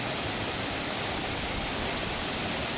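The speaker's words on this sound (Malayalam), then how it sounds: "അതിന് വെള്ളച്ചാട്ടം എന്ന് പറയുന്നത്" Close, loud roar of a waterfall, a smooth and unbroken hiss of cascading water that holds steady from start to finish with no other sounds.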